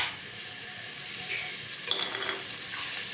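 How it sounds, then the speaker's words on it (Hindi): Garlic ginger paste sizzles with half-browned onions in a pan for a mash dal kofta gravy, a steady broadband hiss with a few stirring scrapes and a brief bright clink, close and alone without talk. "अब इसमें ये लहसुन अदरक का पेस्ट डाल रहे हैं।"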